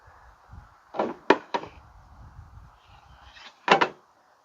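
A few wooden drawers on a 2018 Boston Whaler 350 Outrage boat slide open and shut in quick succession, with sharp knocks as they close, near and fairly loud, over a quiet cabin.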